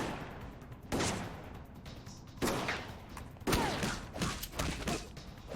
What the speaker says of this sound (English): All right, so they're shooting me as much as they want.